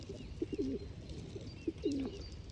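Pigeons coo twice in soft, rolling phrases, one set near the start and another about a second later, over a quiet outdoor background with no talking.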